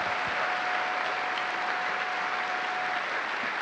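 A crowd applauds the newly assigned astronauts of the Commercial Crew Program, a steady, even round of clapping at moderate volume that carries on without pause.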